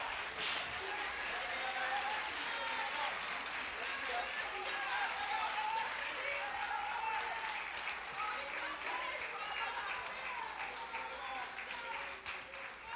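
A church congregation applauds steadily and densely throughout, loud and sustained, with voices calling out beneath the clapping.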